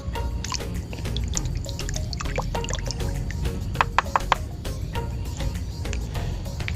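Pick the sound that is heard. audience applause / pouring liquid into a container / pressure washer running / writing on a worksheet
pouring liquid into a container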